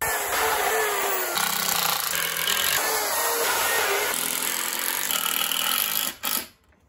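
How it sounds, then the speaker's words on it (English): A miter saw cuts 2x2 timber, followed by drilling and screwing of a frame for children's playthings, harsh continuous power-tool buzzing with shifting pitch, close and loud, cutting off abruptly near the end. "cutting lots of 2x2 material with the miter saw and drilling and screwing it together"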